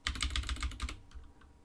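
Quick bursts of computer keyboard typing, about a dozen rapid keystrokes close by, then a few softer taps trailing off into quiet.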